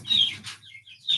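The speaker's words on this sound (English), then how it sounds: "Are the chicks too loud?" Young chicks in a backyard flock give short, high chirps in two or three quick bursts separated by brief pauses, fairly close and moderately loud.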